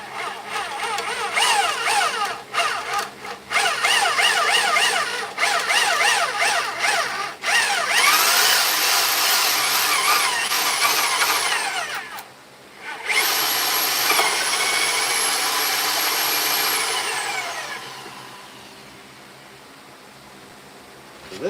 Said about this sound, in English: gotta get this hole drilled.